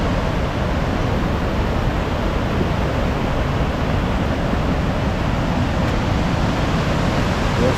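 Waterfall in Wales, a steady, dense roar of rushing water that stays constant and loud with no other sounds.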